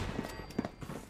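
In Fallout 4, a short, quick burst of gunfire is aimed at a turret, a few sharp cracks in close succession.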